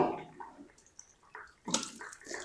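Cold water is poured over cooked spinach in a kitchen, giving quiet splashing and trickling in uneven bursts, with a louder gush near the end.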